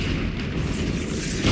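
A Bombarda spell explodes in the Hogwarts Legacy video game, a loud, dense, sustained boom with heavy low rumble that fills the whole short moment without a break.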